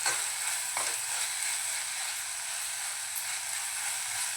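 Pav bhaji vegetables fry in a pan while a spoon stirs them, giving a steady soft sizzle with an occasional scrape near the start and no talking.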